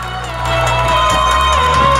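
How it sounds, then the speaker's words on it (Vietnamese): A festival crowd cheers and applauds at a stage show, a loud, continuous roar of many voices and clapping that swells after a quieter start and stays close and steady. "Một tràng vỗ tay cho các bạn."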